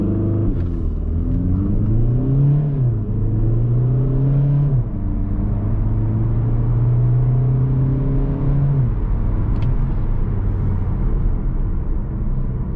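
A Škoda Octavia 4 engine revs up hard in sport mode, pitch climbing through two quick shifts, then holds a steady high drone before easing off near the end.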